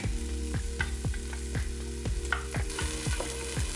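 A sauce of ketchup, brown sugar and chili with black beans sizzles steadily in an Instant Pot, a close, continuous frying crackle with a regular rhythmic ticking running through it.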